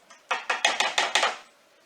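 Scraping of stringy pumpkin pulp with a utensil into a bowl, six quick rhythmic scrapes close by, each with a sharp start and short tail, with no talking.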